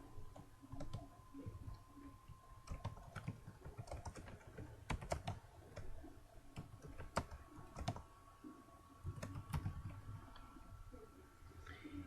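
Typing on a computer keyboard, close, irregular clusters of key clicks at a quiet level, with brief pauses between bursts and no talking.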